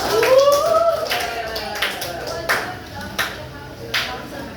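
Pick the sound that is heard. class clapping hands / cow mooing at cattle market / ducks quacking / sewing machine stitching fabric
class clapping hands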